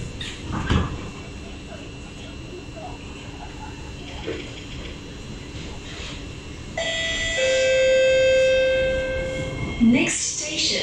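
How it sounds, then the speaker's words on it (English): Doors of an SMRT C751B metro train close: a bump and thud, then a sustained multi-tone warning chime rings loudly, followed by the doors sliding and banging shut over steady carriage rumble, with voices around. "doors are closing"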